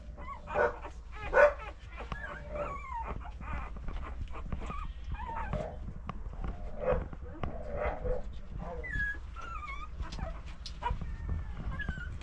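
Small puppies, including a Bichon Frise, bark, yip and whimper at a veterinary clinic, with short high yaps scattered throughout over a steady room hum and people talking nearby.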